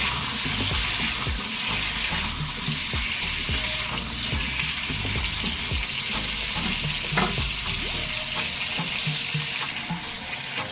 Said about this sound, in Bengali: তার সাথে না একটু নুন দিয়ে আমি ভাজছি।